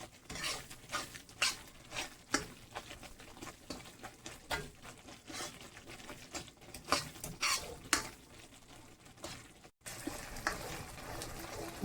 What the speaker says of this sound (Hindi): अब हम इसको हल्के फ्लेम में 1 मिनट के लिए फ्राई करते